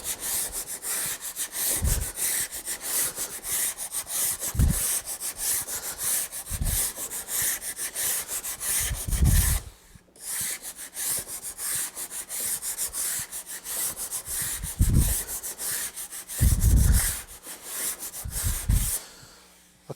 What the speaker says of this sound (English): when I sand, I double up on the ends so that I don't end up going light on them